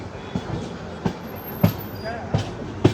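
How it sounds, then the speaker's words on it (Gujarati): Somnath passenger train rolling in on a nearby line of a Rajkot–Kanalus double-track section, its wheels giving a steady series of rhythmic rail-joint thumps over a continuous rumble, heard close. "ડાબી બાજુ જે તમને અત્યારે લાઈન દેખાય છે એના ઉપરથી અત્યારે આવી છે આ સોમનાથ પેસેન્જર ટ્રેન"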